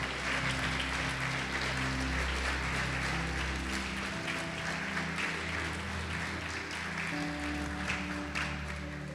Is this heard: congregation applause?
yes